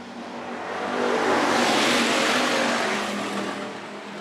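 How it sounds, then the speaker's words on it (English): Race cars at Phillips County Raceway open up to full throttle for the green flag start, a loud roaring engine swell that builds, peaks mid-clip as the pack passes close, then eases slightly, with no voices. "Full throttle, bringing us to the green flag."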